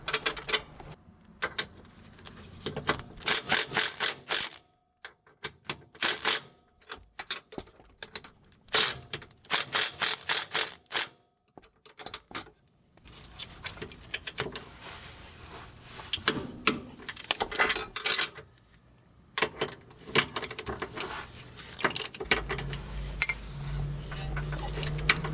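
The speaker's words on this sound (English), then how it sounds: "we're going to also tighten these to 74 foot-pounds and an additional 75 degrees" A wrench torques control arm bolts on a 2010-2016 GM car such as a Buick Lacrosse, Regal or Chevy Malibu, making quick runs of close, crisp ratcheting clicks broken by short silent pauses.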